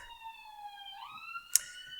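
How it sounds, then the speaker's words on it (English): An ambulance siren wails from a busy street, its rising and falling tone steady and fairly close, with a sharp brief clatter near the end. "sorry about the ambulance"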